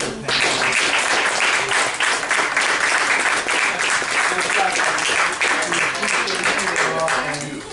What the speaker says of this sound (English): If you could please join me in giving a round of applause to our wonderful panelists.